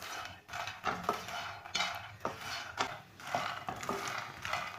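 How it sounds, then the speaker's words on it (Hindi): A spoon stirs fox nuts (phool makhana) roasting over low heat in a pan, making repeated dry scraping and rustling strokes with light metallic clinks in an uneven rhythm. "ऐसे ही चम्मच चलाते हुए इसे भून लेना।"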